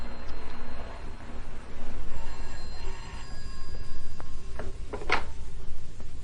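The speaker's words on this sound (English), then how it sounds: "Dear me, who could that be ringing? I suppose I'd better answer it." An old telephone bell rings in a period radio detective drama, set against a steady room hum with bursts of ringing and a sharp final ring before it is answered.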